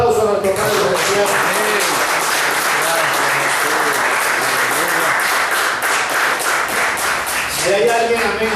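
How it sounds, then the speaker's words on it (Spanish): A church congregation claps and cheers during a Spanish-language evangelical service, a dense, sustained round of applause that stays loud throughout, with voices mixed in. "Den un aplauso a nuestro Padre celestial."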